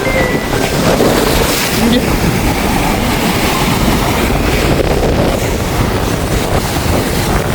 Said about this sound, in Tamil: காற்று நல்ல வேகமாக தான் அடிக்குது அலையே பாருங்கள்